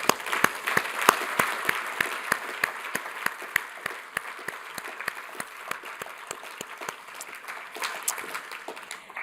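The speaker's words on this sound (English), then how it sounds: "let's give them a big round of applause" An audience at an award ceremony applauds steadily for several seconds, with many hands clapping in a dense, sustained patter at moderate loudness.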